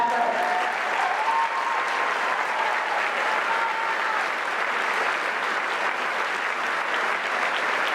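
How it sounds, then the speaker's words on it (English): An audience at a Woodbury High School graduation ceremony in 2017 claps loudly in a dense, steady wave of applause that carries unbroken through the whole stretch, broad and reverberant as in a large hall. "please stand and receive our applause for excellence in athletics."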